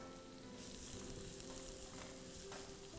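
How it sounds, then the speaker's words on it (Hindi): Continuous dense sizzle of onion and garlic frying in oil, steady and close, with a faint hum beneath and no voices. "प्याज है, लहसुन है, इसे तेल में हम अच्छे तरीके से भून लेंगे"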